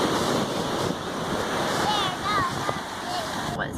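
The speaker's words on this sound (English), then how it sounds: "the waves are really rough" Rough ocean surf breaks on a beach as a steady, loud wash of water that fills the whole stretch, with wind noise on the microphone and faint high voices in the background.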